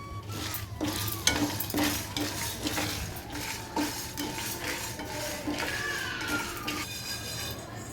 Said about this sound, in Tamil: உளுந்தம்பருப்பு நல்லா செவந்து வரணும் மிளகாயும் கொஞ்சம் வறுபடணும்